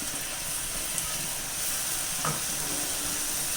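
Tomatoes, coriander leaves and mint being stirred in a hot pan for egg biryani give a continuous soft hiss and sizzle, with a brief scrape of the spoon near the end and no talking.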